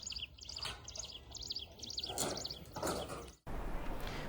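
Wild birds calling around the Bhadrakali temple at Pavagadh, repeated bright chirps and tweets in quick bursts, fairly close and clear over a steady outdoor background, with the sound cutting abruptly near the end; no talking.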